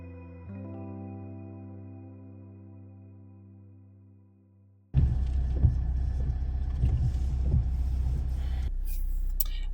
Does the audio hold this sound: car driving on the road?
yes